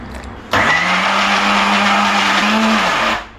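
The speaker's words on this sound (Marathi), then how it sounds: "मिक्सरान पुरा घालला. आता उदक घालता आणि पीठ रेडी करता." A kitchen mixer grinder whirs loudly as it blends oats, besan, rice flour and beetroot into dosa batter, starting abruptly and running steadily for about two and a half seconds before winding down.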